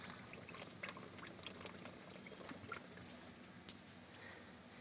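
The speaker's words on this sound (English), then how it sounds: "So here's a condenser filling up with ice water." Ice water being pumped into a homemade distillation condenser used for nitric acid, a faint, continuous trickling and gurgling with a few small splashes.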